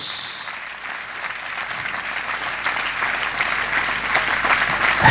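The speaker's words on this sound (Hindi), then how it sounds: "गुड फ्राइडे वाले के लिए जोरदार तालियां।" A church congregation breaks into applause for Good Friday, many hands clapping in a dense steady patter that starts moderate and grows louder toward the end.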